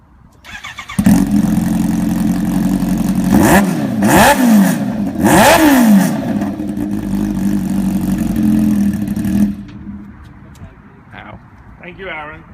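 A Kawasaki H2 motorcycle engine cranks and fires, settles into a loud idle, then is revved sharply several times in quick succession before cutting off, with people talking near the bike.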